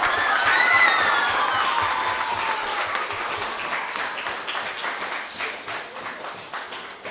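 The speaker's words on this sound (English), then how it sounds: "So let us give the 5 schools here a round of applause." Audience applause at a primary schools Kweyol spelling bee competition, a loud burst of many people clapping with a few whistles and cheers at the start, then settling into steady clapping that gradually softens.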